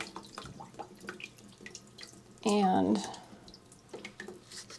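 Water splashes briefly from a watering session for houseplants, a short, fairly loud burst of running water that drips into a catch tray, with quiet speech and small handling noises around it.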